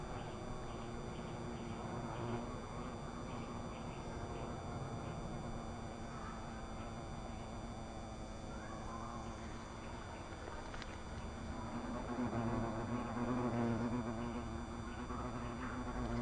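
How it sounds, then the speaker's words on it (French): Hornets and bees drone and buzz continuously at close range around beehives, a steady insect hum that swells slightly toward the end. "Il y a 6 ou 7 frelons qui sont assez mobiles, hein."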